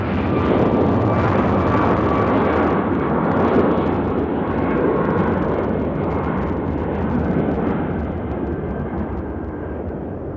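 An Alaska Airlines airliner departs Nashville International Airport, its jet engines producing a loud, sustained roar that rumbles strongly and slowly eases toward the end as the aircraft moves away.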